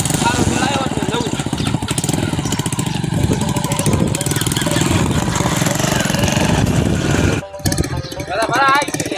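A tractor engine runs nearby with a loud, rough, steady chugging that continues almost unbroken, briefly cut off near the end, while people talk over it.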